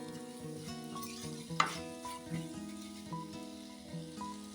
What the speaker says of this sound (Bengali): সময় নিয়ে ভালো করে কষিয়ে নিচ্ছি। এরপরে দিয়ে দিচ্ছি আদা বাটা।